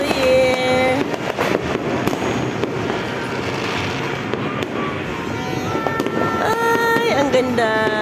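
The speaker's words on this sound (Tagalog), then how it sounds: "Grabing putukan." Dense New Year's fireworks and firecrackers bursting all around, loud rapid crackling and booming explosions with overlapping pops and whistling streaks, while people talk and exclaim in the background.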